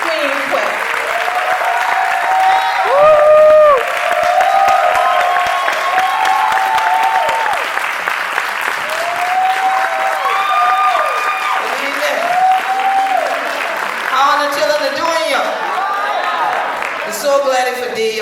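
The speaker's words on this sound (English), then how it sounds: "Give a round of applause and help me welcome Queen Quet" An audience applauds to welcome Queen Quet, Chieftess of the Gullah Geechee Nation, at a tribute awards event; sustained clapping runs throughout, with cheers and voices woven through it.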